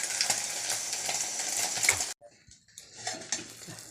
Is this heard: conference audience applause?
no